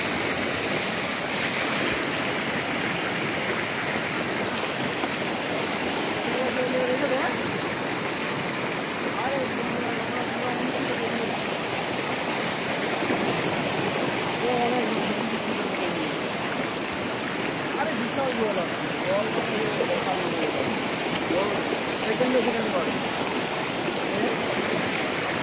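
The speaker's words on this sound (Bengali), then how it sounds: "জল দ্রুত গতিতে ঢুকছে।" Floodwater rushing into Panskura, Chapa Dali, during the 2024 flood, a steady broadband roar of fast-flowing water that continues for the whole stretch, close and constant, with faint voices behind it.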